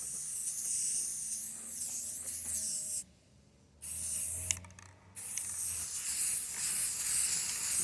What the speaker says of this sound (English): I'm gonna take my black spray paint now.